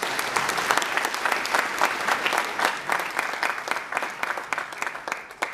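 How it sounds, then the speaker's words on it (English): A conference audience applauds the staff and management, dense, sustained clapping from a large crowd that stays fairly even and continuous from start to finish. "join me in a round of applause for the staff and the management of the conference"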